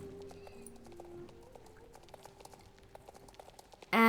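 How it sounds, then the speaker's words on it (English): Video-game horse hooves in a fast gallop from Star Stable patter in quick, light, evenly spaced beats over a sustained musical tone, ending in a sudden bright chime. "And here's the fast gallop."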